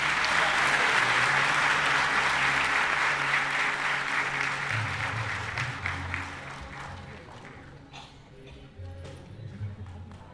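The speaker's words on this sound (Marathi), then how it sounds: "सर्वांनी पुन्हा एकदा जोराच्या टाळ्यांचा गजर करू" Loud applause from an audience at a road safety week inauguration event at NCPA, sustained clapping that gradually fades over about ten seconds, with some background murmur.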